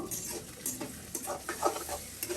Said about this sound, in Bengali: আর এখন আমি ডাল বাগার দিচ্ছি